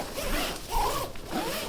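The zipper on the bottom door of a 2024 Nortent Vern 1 tent is pulled in one continuous, close, rasping run with no one talking.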